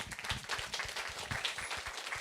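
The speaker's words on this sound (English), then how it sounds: "let us give our applause to Lawrence again" Audience applause at a book talk and signing event on kung fu, a steady crackle of clapping hands sustained throughout without speech.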